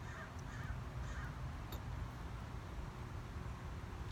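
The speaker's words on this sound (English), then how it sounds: "When crows call out to each other, it's a warning." Crows calling to each other: several faint caws spaced through a quiet outdoor background hiss, fairly distant, with no talk.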